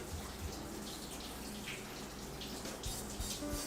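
Tap water runs steadily over white beans being rinsed in a sink, a close, continuous splashing gush with small irregular spatters and no talk.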